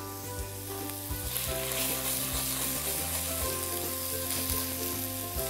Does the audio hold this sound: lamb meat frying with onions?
yes